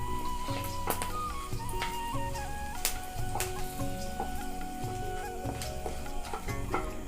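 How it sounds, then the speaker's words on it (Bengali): Whole cloves, cinnamon, black and green cardamom, dry red chillies and peppercorns fry in oil over low heat, making a quiet, steady sizzle with faint crackles and a soft tonal background. "4টে লবঙ্গ, 2টো দারচিনি, একটা বড় এলাচ, 2টো শুকনো লঙ্কা, 2টো ছোটো এলাচ আর 10টা মতো গোলমরিচ দিয়ে আমি লো আঁচে এগুলো একটু ভাজা করে নেব"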